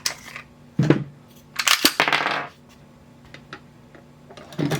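A Sig pistol is loaded and racked: a scatter of sharp, close metallic clicks and clacks, including a rattling slide cycle in the middle and another click at the end, with near silence between.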